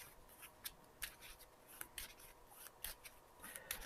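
Faint, irregular riffling and snapping of a deck of game cards being shuffled by hand during a tabletop board game session, with short bursts of card noise spread across a few seconds.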